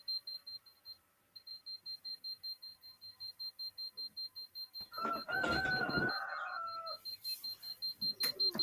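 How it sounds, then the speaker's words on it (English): A detector warning of a harmful reading gives rapid, steady high-pitched beeps in a regular rhythm. A louder burst of noise briefly overlaps the beeping partway through. "When it starts beeping,"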